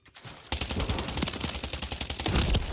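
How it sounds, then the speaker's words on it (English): Rapid, dense gunfire from a gun battle in the Modern Warfare 3 beta shooter game erupts after a brief quiet start and continues as loud, continuous bursts of close automatic shots. "I don't understand how I lose that gun battle there"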